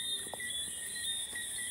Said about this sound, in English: Yo, you guys hear the cricket?